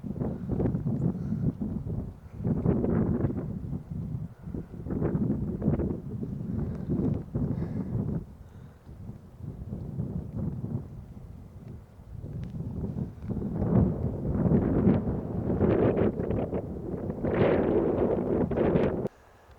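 Wind buffets outdoors on a backpacking trip in a lake basin, a steady rushing roar that swells and eases across the whole stretch, loud and close against the microphone, with no speech.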